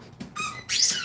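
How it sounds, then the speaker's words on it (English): A dog squeezes her toy ball indoors, producing two bright, high squeaks in quick succession, the second one longer and louder. "I don't know what's better, Marceline barking or Marceline squeaking her ball in the background"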